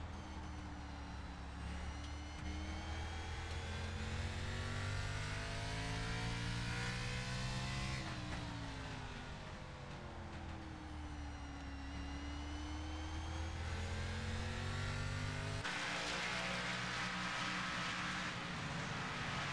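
A video game race car engine at Martinsville drones continuously, its pitch sweeping up and down as the throttle opens and eases coming off a corner, shifting gears a couple of times.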